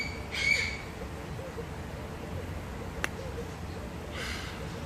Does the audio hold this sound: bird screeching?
yes